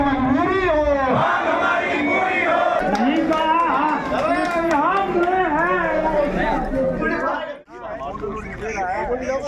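A loud crowd at a protest shouts and chants together, voices overlapping in a dense, continuous roar that dips briefly near the end before swelling again.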